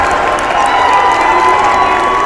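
A loud, sustained roar of cheering from the Rider home crowd at a high school football playoff game against Seattle Prep, continuous and close.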